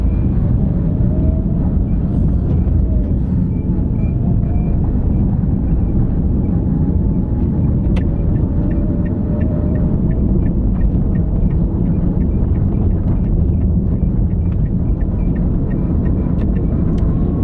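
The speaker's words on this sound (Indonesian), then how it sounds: "Kita lepas kopling supaya dapat engine brake-nya, kemudian kita gas kembali sedikit-sedikit." A manual-transmission car downshifts on a hill so the engine brakes, then picks up throttle again little by little, giving a steady, loud, close engine drone and rumble that carries on unbroken, with no talking.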